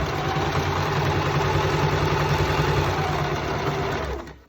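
A sewing machine stitches up the side of a fabric pocket with elastic in one steady, close, continuous whir that stops abruptly at the end.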